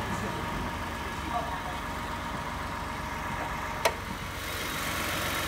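A 2016 Toyota Sienna XLE van's V6 engine with variable valve timing idles as a steady, even, close hum that stays level throughout, with one brief click partway through.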